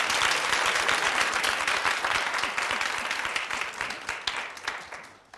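Studio audience on a French-language television talk show clapping: a dense, sustained burst of applause, close and loud, holding steady before tapering off at the end, with no talking over it.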